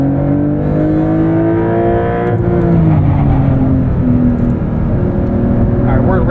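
2023 Porsche 911 Dakar with its 3-liter engine, heard from inside while driving, revving with rising and falling harmonic engine tones under a voice.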